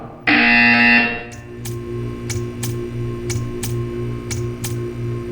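An electronic buzzer sounds in a Portal 2 test chamber: one long, loud, steady tone for about a second, then a series of short repeated ticking pulses at an even rhythm over a low background hum.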